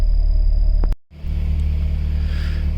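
A Toyota AE86 with a 20-valve engine idling in a post office parking lot, a low steady rumble cut by a brief dropout before settling back into a continuous close drone.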